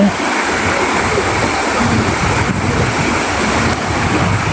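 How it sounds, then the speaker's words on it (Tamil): Water from a burst pond embankment, an old tank built in the era of kings, rushes through the breach in a loud, steady, close roar with no pause. "கட்டு வந்து உடைச்சி பாயுது"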